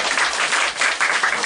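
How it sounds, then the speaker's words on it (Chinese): A crowd at an environmental tea gathering bursts into warm applause to welcome a speaker, a dense, loud wash of clapping hands filling the short moment. "那我们现在热烈掌声来欢迎蔡司令"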